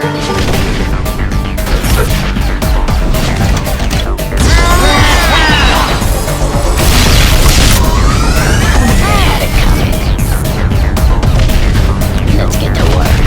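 Cannon fire and explosions in the Bug Heroes Tower Defense video game, with loud booms and crashes layered over dense game music and sound effects across the whole stretch, steady and close.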